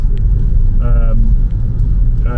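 A Hyundai Kona Electric cruising at about 70 mph on an open road, giving a constant loud low road and tyre rumble inside the cabin with a few faint tonal whines, steady throughout.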